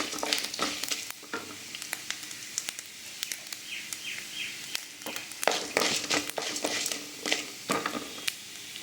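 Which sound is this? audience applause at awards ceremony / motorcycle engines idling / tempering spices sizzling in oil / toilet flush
tempering spices sizzling in oil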